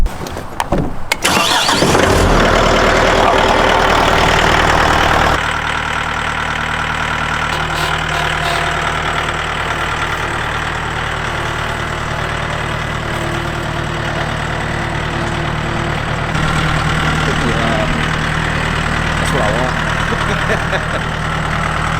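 A Mahindra tractor engine starts with a burst of noise, then settles into a steady, close, rumbling idle that continues throughout.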